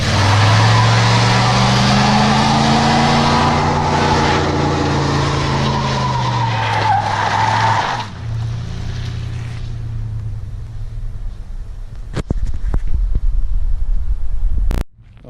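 A 9-inch lifted Ford truck does a burnout, engine roaring loudly with a wavering pitch as the wheel spins for about eight seconds, then settles to a lower rumble with sharp clunks and bangs near the end.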